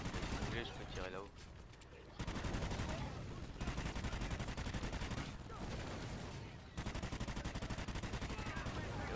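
Repeated gunfire in the video game Extinction Point of Contact, a steady rapid stream of shots through most of the stretch with brief breaks, fairly faint in the mix.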